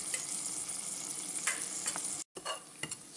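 Green chili and ginger paste hit hot oil in a pan with carom seeds, giving a loud, steady, close sizzle and frying hiss with stirring scrapes and a brief break near the end.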